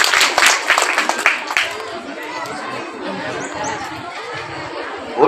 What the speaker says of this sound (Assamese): ডাঙৰকে হাত চাপৰি বজাব লাগে হোম টিমৰ কাৰণে